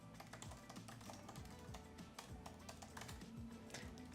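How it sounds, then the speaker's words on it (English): Rapid, steady typing on a computer keyboard, with dense overlapping clicks at close range over a constant low background hum, and no voices. "Let's type some email to support."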